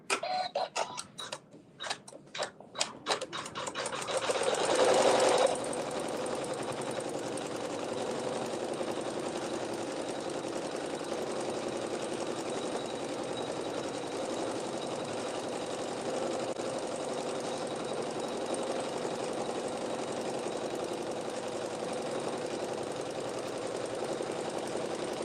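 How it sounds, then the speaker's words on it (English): Sewing machine quilting through layered quilt fabric with thread matched to the fabric, a few short stuttering bursts at first, then one long, steady, moderately loud run of stitching that continues alone to the end. "we'll sew the quilting"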